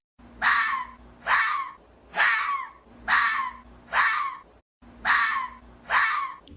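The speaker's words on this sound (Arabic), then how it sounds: "صوت الثعلب." A fox calls in a steady series of seven harsh, rising barks or screams, each about half a second long and evenly spaced, loud and close against a quiet background.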